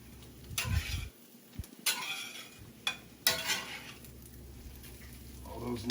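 White oyster mushrooms tossed in a pan with garlic, onions, butter and olive oil, a few soft scraping and sizzling bursts separated by quiet gaps, faint and close.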